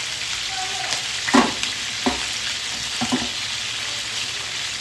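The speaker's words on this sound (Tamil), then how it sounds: "நல்லா ஃப்ரே ஆகி வரட்டும்." Chicken biryani masala fries in a pan with a constant loud sizzle, broken by a few soft thumps as the mixture is stirred.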